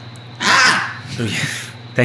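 A person vocally imitates a grackle's call, producing a harsh, squawking crow-like cry that rises and falls over about a second, followed by a short second squawk at the end.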